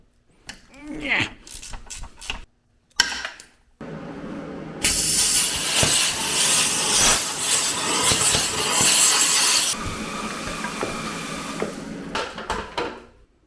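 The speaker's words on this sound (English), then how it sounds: "I love having a plasma cutter." Plasma cutter slicing through metal and cables on a trike under restoration, a loud steady hissing roar running for several seconds after brief bursts of clanking and short pauses.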